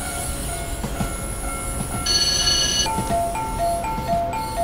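103 Series EMU electric train braking on a Japanese line between Sakurai and Gojo in Train Simulator 2017, with a loud steady rolling rumble, a high whine, and a pulsing in-cab alarm tone beeping in the second half.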